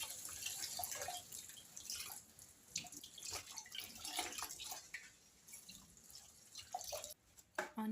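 Tap water drips and trickles during washing up with Vim dishwashing liquid in a home kitchen, a faint, steady patter of droplets with brief splashes, no one speaking.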